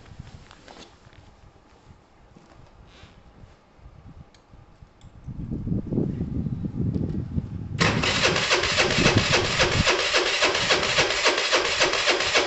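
A Piaggio Typhoon scooter engine cranks with a low starter churn, then catches and runs with a loud, steady buzzing idle that fills the second half, heard alone at close range.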